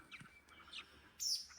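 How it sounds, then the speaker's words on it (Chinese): Parent bird calling anxiously near recently fledged chicks that have fallen among rocks by a riverbank; several short, faint chirps spread through the clip, with a louder, higher tweet near the end. "老鸟一直在里面叽叽喳喳叫个不停。"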